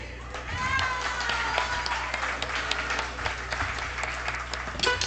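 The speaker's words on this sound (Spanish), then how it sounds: "ahora les pido un fuerte aplauso" Applause from the audience at a tribute concert for the Kichwa bandolín, steady clapping spread across the room, with talk and other noise mixed in underneath.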